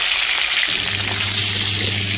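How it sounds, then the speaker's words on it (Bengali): Fish heads fry in hot oil, giving a steady, dense sizzle and crackle that fills the whole stretch without letup, close by and with no voices over it. "এবার মাছের মাথা দুটোও ভেজে নেব।"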